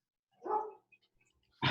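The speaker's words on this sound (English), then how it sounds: "Somebody's dog is barking." A dog barks somewhere outside, giving one short, faint, distant bark followed by the start of another against near silence.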